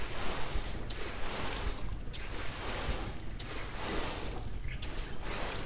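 Steady rushing spray of water poured over planted seeds in the farming video game Lightyear Frontier, continuous and fairly loud, with soft pulsing swells and no talk.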